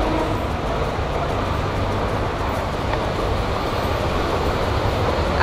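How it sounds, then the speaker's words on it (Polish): Coastal train passing by along a seaside promenade in Spain, a steady loud rumbling roar of rail cars close by that holds for several seconds without a break, with no talking over it. "A tutaj nadbrzeżny pociąg właśnie nam umknął."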